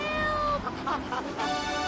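A cat meows from a tree in the video game GTA 3, giving a couple of short, close wavering cries over a steady background tone.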